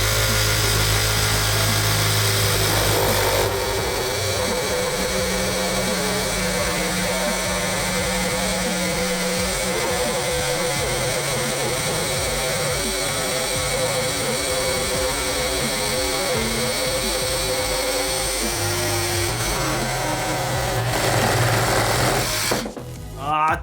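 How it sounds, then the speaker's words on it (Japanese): A DINSHARE 20V cordless reciprocating saw cuts through a scratched 2x4 board, its motor buzzing and blade chattering steadily up close for about twenty seconds before the cut finishes and the noise drops off. "とりあえずこの状態で木を切ってみたいと思います"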